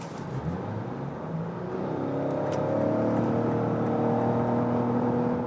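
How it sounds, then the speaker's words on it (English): A Lexus RX F Sport in Sports Plus mode accelerating hard from 40 km/h on the German Autobahn, engine note rising steadily and building into a loud sustained drone heard from inside the cabin. "Go to the Sports Plus mode, go to 40 kilometers an hour and accelerate it out."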